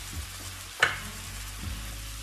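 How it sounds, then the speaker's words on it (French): Vegetables and mushrooms fry together in a pan for rice noodles, a steady close sizzle with a sharp clatter of stirring near the start and a softer knock later. "je vais laisser le tout se mélanger à cuire ensemble contre 1 minute"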